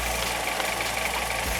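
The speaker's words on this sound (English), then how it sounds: "Now we're going to let the engine build up with some pressure." A car engine idling steadily after a thermostat replacement to fix overheating, a continuous close low rumble with an even mechanical hum and no other sounds.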